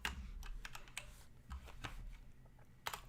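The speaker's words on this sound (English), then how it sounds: "while I type with my mechanical keyboard" Clicky keystrokes on a mechanical keyboard, a quick irregular run of taps at close range over faint low hum, with no talking.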